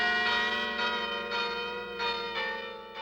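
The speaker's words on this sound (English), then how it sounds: "She's been making a merry musical clang ever since." Handmade bells ring in a bell tower in Berkeley, California, a steady metallic clang with rich sustained overtones and a fresh strike roughly every half second, loud and close with no voices.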